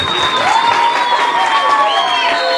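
Crowd of children applauding and cheering loudly at an outdoor ceremony launching a street-to-Olympics sports project in İskenderun, a dense continuous roar of clapping with high shouts and whoops throughout.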